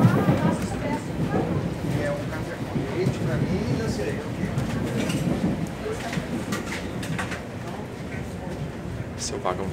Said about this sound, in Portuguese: Esse é o vagão do trem